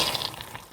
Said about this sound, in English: pour myself a bowl of cereal